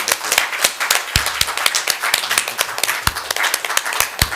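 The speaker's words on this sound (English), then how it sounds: "ask you a last round of applause to both our panelists and to the patients" An audience at a conference session applauds the panelists, with sharp, close individual claps standing out over a steady bed of clapping that keeps going throughout.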